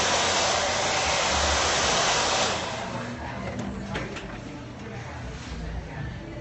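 A hair dryer on high heat and high speed roars steadily and loudly at close range while blow-drying hair, then drops to a somewhat lower, rougher whoosh partway through.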